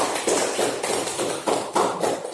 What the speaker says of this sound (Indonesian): Kita kasih aplaus dulu ya untuk kelompok 1 ya, untuk kelompok 2 ya